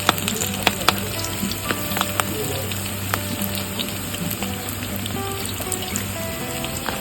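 Vegetable kofta balls fry in hot oil with a constant bubbling sizzle and scattered crackling pops, close and steady for the whole stretch.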